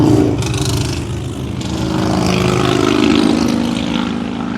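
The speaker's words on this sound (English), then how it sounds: "Wait for this motorcycle." A loud motor engine roars nearby, its droning hum rising and swelling as the vehicle passes, with no voices.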